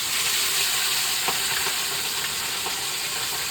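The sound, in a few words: fish pieces frying in oil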